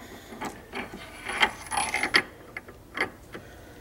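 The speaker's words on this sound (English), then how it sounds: "Now we're going to put on a fifth gear driven gear" A fifth gear driven gear being slid onto oiled splines inside a 1994 Firebird transmission, giving a series of short metallic clicks and scrapes, close and fairly quiet, with no talking.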